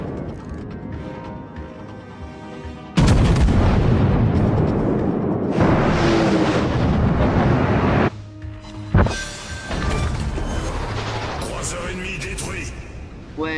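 Heavy battleship guns boom in the World of Warships naval game aboard the USS South Carolina, a large blast opening a dense stretch of repeated loud explosions and rumbling bursts over game music, with someone talking between salvos.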